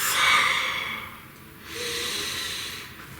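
A person draws a deep breath in and lets it out slowly, close and fairly loud, with a soft hiss of air and no talking.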